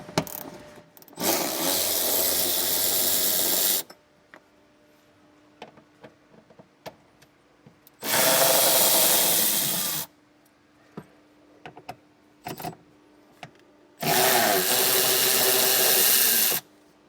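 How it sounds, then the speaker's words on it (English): A power driver with a 10mm socket removes screws from a rear storage unit in a vehicle, sounding as three loud separate whirring bursts of about two to three seconds each, with quiet clicks and handling noises between them. "we're going to take our 10mm socket. And there's going to be 3 screws"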